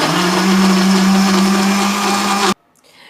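A kitchen blender grinds green chillies into paste with a loud, steady motor whine, then cuts off abruptly, leaving quiet room sound.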